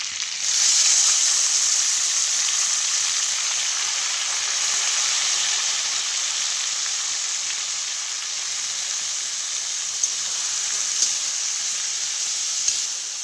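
Cluster beans (guar pods) sizzle in hot oil with a cumin, mustard seed, garlic and turmeric tempering, giving a steady, close, bright frying hiss that holds for the whole stretch with only small crackles and no voices.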